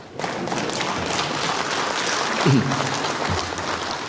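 Audience applause rises during a formal national address by Malaysia's prime minister, a dense, steady wash of clapping that runs evenly across the whole clip with no spoken words over it.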